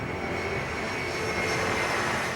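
Boeing 747 jet airliner, a steady loud broadband engine roar that holds constant throughout with no voices.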